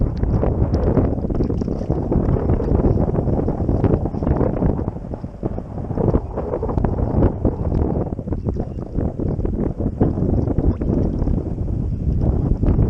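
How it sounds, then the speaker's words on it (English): Strong wind buffets the microphone while kayak fishing during a redfish tournament at Port Aransas, a loud continuous rumbling roar with gusty surges and faint water sounds, no talking. "As you can tell, the wind was still kind of blowing from the previous day"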